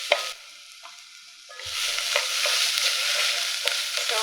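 A large chopped onion sizzles in a hot pan, starting quietly with a clank of a utensil, then building into a steady, loud frying hiss with occasional stirring scrapes, close up and with no talk.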